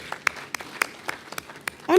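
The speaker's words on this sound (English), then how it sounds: "Please, a round of applause for him." Sparse, scattered hand claps at a public government budget presentation, a handful of sharp separate slaps at an uneven pace, with a voice starting right at the end.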